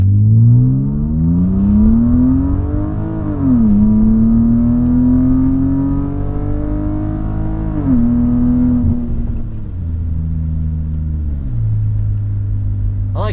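A BMW E36 M3 with an automatic gearbox revs hard against the held brake before launch, its engine note climbing and dipping in several loud, close surges over a steady low rumble.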